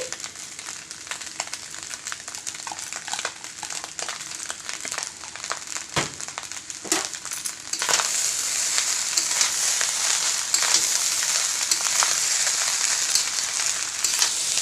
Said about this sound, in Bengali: আমি এবার ভেজে রাখা গাজর আর ক্যাপসিকামগুলোকে সুন্দর করে দিয়ে দিচ্ছি